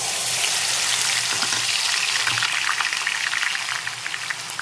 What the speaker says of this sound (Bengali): এখন তেলের মধ্যে দিয়ে দিচ্ছি পেঁয়াজের পেস্ট